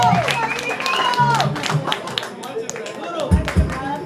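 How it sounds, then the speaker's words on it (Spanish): Scattered clapping and cheers at a band gig honoring a young drummer's first show, uneven bursts mixed with shouting voices and a couple of heavy thumps near the end. "Un aplauso, cabrones, que se vea."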